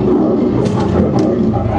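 Lion roar sound effect played loudly during a birds of prey show at a zoo, a low rumbling growl that swells and holds steadily for the whole stretch.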